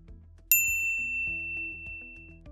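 A single bright bell ding rings out and fades over a soft, low background hum.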